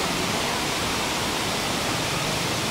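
Waterfall at Puerto Galera, a steady broadband roar of rushing water, dense and continuous throughout with no voices.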